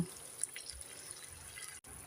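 Hot water is poured into a pan of Bengali fish curry (macher jhal), a brief, steady, close splashing trickle that cuts out for an instant near the end, with no voices.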